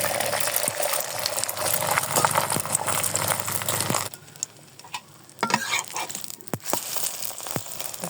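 Eggs frying one at a time in hot oil in a frying pan, a close, loud sizzle with crackling spatter that drops briefly and then returns with more popping and light utensil scrapes.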